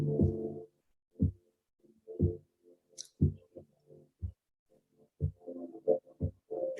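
A song plays back with slow, deep, heartbeat-like pulses spaced evenly and softly, leaving quiet gaps between beats and faint ambient tones in between.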